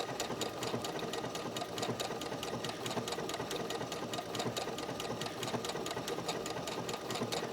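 A sewing machine blanket-stitching wool appliques runs with a continuous, rapid mechanical whir and needle clatter, steady and close throughout, with no speech.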